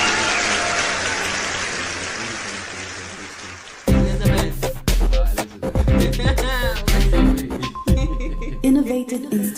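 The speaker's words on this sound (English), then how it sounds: "Maybe a round of applause from the technical team." A round of applause at an online summit, dense steady clapping for about four seconds before it gives way to talk and bursts of other noise.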